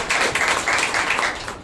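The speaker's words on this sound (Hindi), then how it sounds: "हालेलुया, एक जोरदार ताली बजाइए।" Church congregation clapping during a Wednesday service, dense steady applause from many hands, close and loud for a brief stretch.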